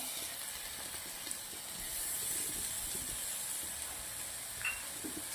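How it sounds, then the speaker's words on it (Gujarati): Tomatoes dropped into hot spiced oil in a home kitchen pan while cooking a green garlic and val bean curry, giving a steady broad sizzling hiss that swells slightly midway, with no talking. "હવે નાખવાના છે ટામેટાં."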